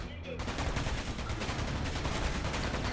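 Dense, continuous gunfire from a weapon in the Space Engineers video game, with rapid shots packed together and running loud for about three seconds after a brief quieter start.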